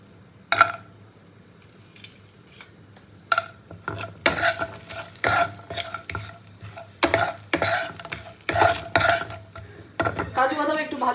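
Cashew nuts frying with whole garam masala in butter for butter paneer, sizzling under bursts of stirring and spoon-on-pan scraping, close by, with a brief clatter of cookware near the end.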